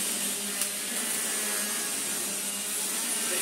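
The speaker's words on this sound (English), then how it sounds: "This bit of carpet needed a good vacuum. This is certainly doing it now." A Vorwerk Kobold vacuum cleaner runs over carpet with a loud, steady, bright whine and roar, and faint bumps occur as it is pushed back and forth.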